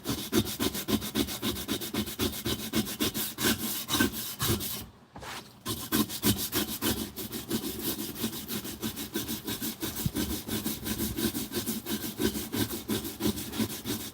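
Vigorous back-and-forth scrubbing while cleaning a truck, a rapid rhythmic rasping that is loud and close, continuing almost without a break apart from one brief pause partway through.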